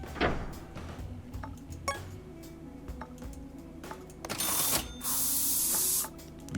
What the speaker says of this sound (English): Just spray it its normal colour.